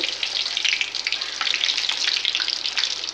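Potato lollipop balls, boiled potato with an outer coating, frying in hot oil, a dense continuous crackling sizzle with fine popping throughout, close and steady.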